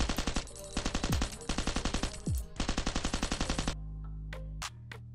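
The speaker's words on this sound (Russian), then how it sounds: "Они по мне стреляют." Rapid bursts of automatic gunfire from a Last Island of Survival firefight, loud and close, with repeated volleys over about four seconds before cutting to a quieter hum with a few sharp isolated shots.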